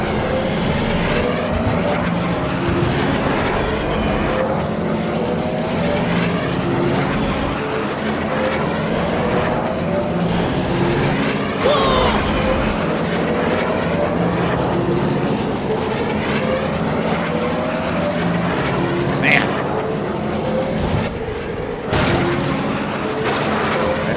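Podracer engines in the Star Wars Episode 1 Racer video game, one engine damaged, roar in a dense whining mechanical drone with shifting pitch sweeps and occasional sharp bursts, loud and continuous with no talk.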